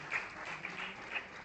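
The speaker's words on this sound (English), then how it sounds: "Let's welcome her with a clap of praise." Audience at a stakeholder meeting clapping in applause, a modest, fairly thin patter of hands with a few louder swells, heard at moderate distance with no talking over it.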